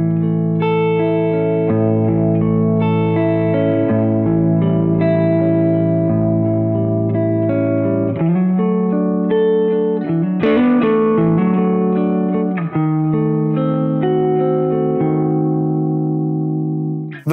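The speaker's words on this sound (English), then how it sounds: "so that's a big spring reverb" Sustained electric guitar chords through a big spring reverb ringing out with a wide, splashy reverb tail, played alone and fairly loud, with a few sharper strums partway through.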